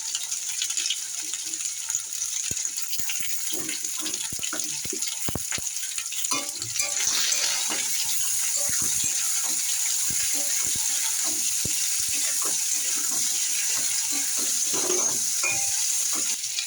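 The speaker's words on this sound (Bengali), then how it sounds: "ভাজা ভাজা করে নেবো এগুলো" Potatoes, papaya and green bananas fry in a pan for a Bengali shukto, giving a steady close sizzle throughout with frequent scraping and clinking of a stirring spoon, no voices.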